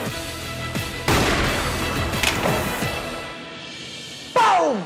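Gunfire from a first-person shooter video game: a sharp loud shot strikes partway through, with scattered impacts and clattering effects around it and a final bright burst near the end.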